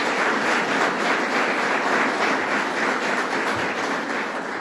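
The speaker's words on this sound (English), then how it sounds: "let's give him a round of applause for his" A crowd at a public event with a governor and local officials in Utica applauds for Dr. Hutton, a dense, steady wash of clapping that holds loud throughout and tapers slightly at the end.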